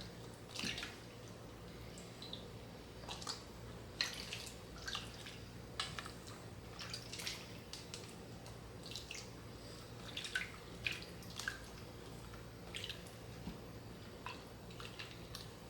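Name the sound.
homemade butter being massaged in cool water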